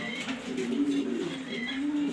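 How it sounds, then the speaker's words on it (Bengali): Blue racer male pigeons cooing close by, soft throaty rolling coos repeating over a quiet background with no speech. "সেরকম কোয়ালিটি দুটা নর কবুতর"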